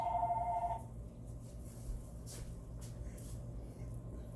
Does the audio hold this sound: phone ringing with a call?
yes